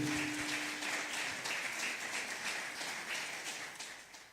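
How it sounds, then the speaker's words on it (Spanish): A church congregation gives a round of applause during a Sunday service, a soft, distant wash of many hands clapping that slowly tapers off. "Denle un fuerte aplauso al Señor."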